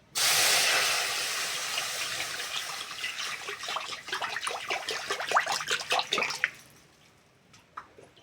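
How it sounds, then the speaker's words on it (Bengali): Water poured into a kadai (wok) set on the stove for a cabbage veg curry, a loud broad splashing rush at the start that thins into uneven trickles and spatters before stopping. "কড়ার মধ্যে জল দিয়ে দেবো।"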